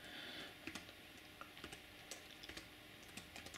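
Quiet typing on a computer keyboard, with irregular light key clicks in small clusters, close by and faint, and no talking.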